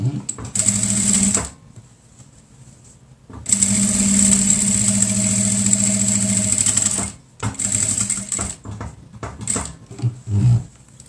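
A sewing machine stitches a 3D cloth face mask in steady, high whirring bursts of a few seconds each, separated by brief pauses and lighter handling noises.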